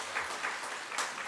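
Church congregation applauding its elders during a commissioning and ordination thanksgiving service, a steady wash of clapping from a moderate-sized gathering that sounds fairly distant and soft.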